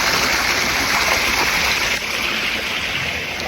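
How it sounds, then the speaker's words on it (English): A river flows along during an outdoor walk, a soft, steady burble and wash of moving water heard close, continuous with a faint high whine above it and no talking. "I have found a river"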